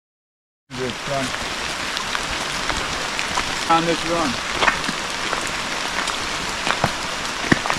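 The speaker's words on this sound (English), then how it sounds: "it's raining its ass off" Heavy rain pours steadily onto a stream, a dense, close hiss of drops hitting water that runs unbroken from start to end, with someone briefly speaking early on.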